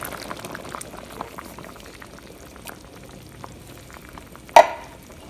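Chickpea potato curry simmering in a Le Creuset 7.5-quart soup pot, a steady soft bubbling with small pops and one brief louder clink near the end, close by with no talking.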